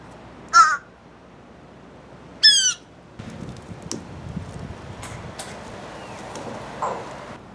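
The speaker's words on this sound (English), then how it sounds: "It's a bird." Crows caw outdoors in two loud, harsh bursts a couple of seconds apart, followed by fainter scattered bird sounds and rustling background.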